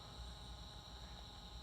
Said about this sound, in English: that buzzing sound you hear is actually from the other pieces of equipment that I have in here